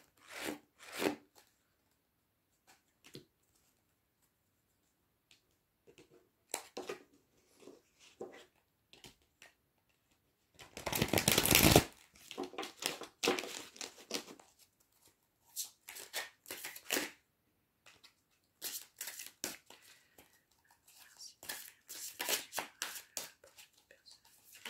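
A deck of fairy tarot cards is shuffled by hand in close, quiet bursts of riffling and rubbing, separated by pauses, with a denser run partway through.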